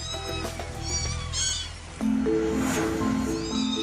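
Two curious kittens sitting by the water give short, high meows, several thin calls in a row over a steady outdoor background hum, fairly near and moderately loud.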